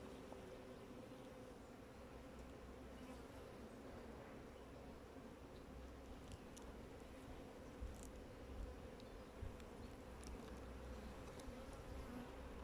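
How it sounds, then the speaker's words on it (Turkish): Drone honey bees buzz continuously at a hive in a soft, droning hum, a dense swarm sound with occasional louder passes close by. "Erkek arılar çıktı."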